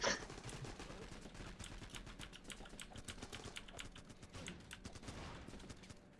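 Gunfire in the game Running with Rifles: quiet, crackling bursts of distant rifle and machine-gun shots in dense, irregular volleys, with no talk over them.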